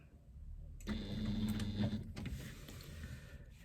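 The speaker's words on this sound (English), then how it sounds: "if you feel you need to do them one stitch at a time, hand cranking" Sewing machine turned slowly by hand crank, one stitch at a time, giving a faint mechanical whir with a few soft clicks and taps at close range in a quiet room.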